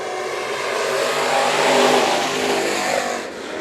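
IMCA Northern Sport Mod race cars roar around the 3/8-mile dirt oval at Bakersfield Speedway at Kevin Harvick's Kern Raceway during a heat race, a loud, dense engine wash that swells as the pack passes and then eases slightly.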